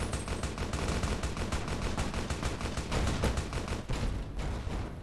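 Rapid gunshots from the video game Fallout New Vegas, a loud, continuous stream of close automatic fire with evenly spaced cracks across the whole stretch, without speech.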